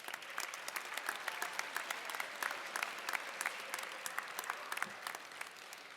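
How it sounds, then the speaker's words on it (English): An audience at the 2015 Franklin Technology Center dedication gives a round of applause, crisp dense clapping that holds steady at moderate volume. "Let's give them all another round of applause."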